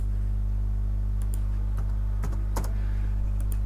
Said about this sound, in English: So let me type it.